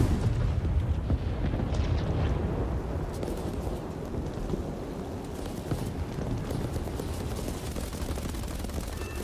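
A bomb detonates in a War Thunder air battle, the blast folding into a dense, steady rumble of engine drone and distant gunfire that fills the whole stretch without a distinct peak.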